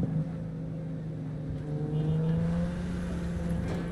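A car drives in Cyberpunk 2077, its engine a steady droning hum that rises slightly in pitch mid-clip as it accelerates, heard alone at moderate volume.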